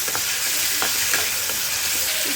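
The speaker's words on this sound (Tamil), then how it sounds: "இப்போ இஞ்சி பூண்டு வதங்கிருக்கு" Ginger and garlic fry in a pan with a steady, close sizzle, broken by a few light stirring scrapes.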